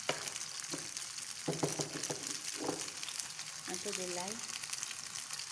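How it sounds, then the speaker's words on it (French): Pasta sautéing in butter in a pan for a carbonara gives a steady, close sizzle and crackle throughout, with a few clinks of a utensil stirring, while a person talks briefly over it. "je vais faire sauter avec le beurre"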